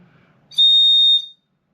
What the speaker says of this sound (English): It's actually a whistle.